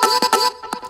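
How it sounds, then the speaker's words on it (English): A short vocal shot sample triggered in Ableton, several quick chopped hits forming a little pattern, with bright bursts and brief gaps between them. "So just a little vocal shot"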